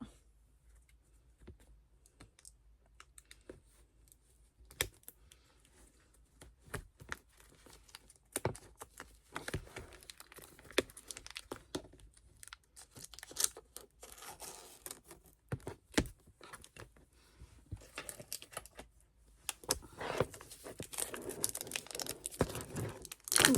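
Packaging of a diamond painting kit is torn and crinkled open by hand, with irregular close-up ripping, rustling and scratching sounds in bursts. They grow busier and louder toward the end, over a quiet background.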